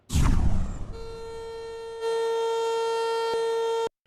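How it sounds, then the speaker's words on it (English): A tornado storm warning siren wailing with a steady droning tone that cuts off abruptly, after a brief noisy burst at the start. "what to do when storm sirens sound in your area"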